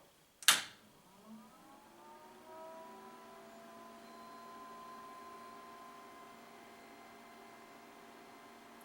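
Mesa Recto 2100 power amplifier cooling fan starting with a sharp click, then settling into a steady whirring hum with faint tonal whine, moderately quiet and continuous with no voices.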